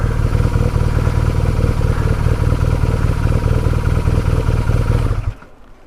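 A car engine runs at idle with a steady, close, low rumble and light clatter, then cuts out abruptly near the end as the car switches to electric mode.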